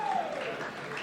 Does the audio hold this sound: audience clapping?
yes